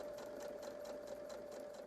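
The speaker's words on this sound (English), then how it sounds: "now I'm going to take this over to the sewing machine and sew the pinned edge using a 1/4 inch seam" A sewing machine stitches a pinned fabric edge with a 1/4 inch seam allowance: a steady motor whine under quick, regular stitching pulses, fairly faint, with no talking.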